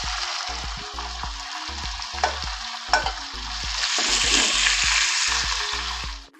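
Chicken pieces fry in hot oil in a cooking pot for biryani, a steady loud sizzle with stirring scrapes and clinks throughout, close up and without talk.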